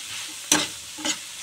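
Chayote pieces dropped into a hot pan with a sharp burst of sizzling, then a second stirring scrape about half a second later, close and clear over low background hiss.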